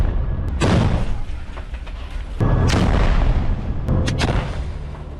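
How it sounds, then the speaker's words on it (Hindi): Several heavy explosions boom one after another as the Israeli army blows up a tunnel in the Gaza Strip, each a loud, rumbling blast with a long roaring decay, close and powerful, with no talking. "इजरायली सेना ने किया है बड़ा विस्फोट"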